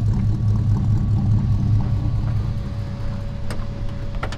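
A car engine drones on the drive up the UAE's highest mountain, a steady low hum holding even with a couple of brief ticks near the end.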